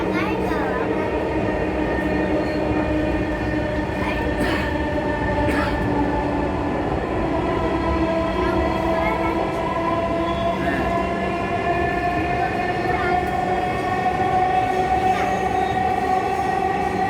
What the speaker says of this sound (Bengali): প্রথমবার মতো আমি মেট্রোতে চললাম।